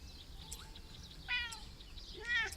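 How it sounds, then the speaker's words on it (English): Two short cat meows from the video game Misc. A Tiny Tale, roughly a second apart, each a thin rising-and-falling harmonic cry over a quiet background hum. "Of course it's that goddamn cat."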